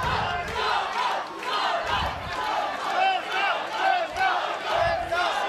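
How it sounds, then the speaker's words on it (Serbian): At a Serbian Super League boxing final, rival Sombor and Crvena Zvezda fans chant loudly in rhythmic, pulsing waves that fill the hall without a break. "Čujemo navijanje s jedne strane Sombor, s druge Zvezda"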